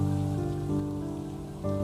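Steady rain pours over a sustained, tonal musical drone, the downpour holding at an even, fairly loud level throughout with no voices.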